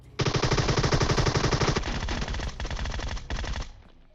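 Groza rifle fire in PUBG Mobile: a loud, rapid automatic burst rattles continuously for several seconds, then breaks into two shorter bursts before stopping, with no voices.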